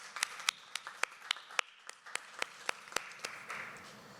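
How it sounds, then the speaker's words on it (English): Sparse applause at a federal women's training event, a small crowd clapping in scattered, uneven bursts rather than a full ovation, fairly soft and trailing off. "Let's give her another round of applause."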